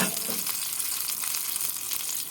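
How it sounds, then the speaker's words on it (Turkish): Oil sizzles and crackles steadily as onion balls fry, a close, continuous bubbling hiss with small pops throughout. "Şimdi kalan 2 taneyi de bırakalım yağın içine. Onlar da kızarsın."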